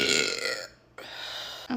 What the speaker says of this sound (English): I think there's another burp coming.